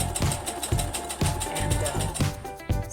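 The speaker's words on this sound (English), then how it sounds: "So I'm going to go ahead and sew this down now." A domestic sewing machine stitches down a pocket seam on a Simplicity 9057 garment, giving a close, rapid mechanical chatter with a steady repeating needle rhythm throughout.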